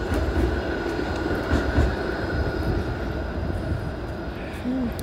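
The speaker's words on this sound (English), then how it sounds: "Streetcar." A downtown streetcar rumbles along in a continuous low roar of wheels and motion, loud and close, with no talk over it.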